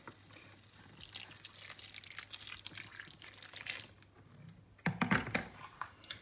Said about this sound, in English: So now I'm just going to add in a little bit of boiling water.